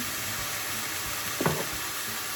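Soy sauce splashes into a pan of fried rice, where a constant close sizzle hisses and one brief, sharper spit flares as the liquid lands; no one speaks.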